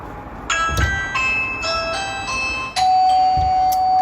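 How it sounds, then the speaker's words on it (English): A Ring Chime Pro doorbell chime sounds in a series of bright, ringing tones, the last note sustained and fading slowly, with no talking. "I'm going to ring the doorbell to make sure that that is working correctly"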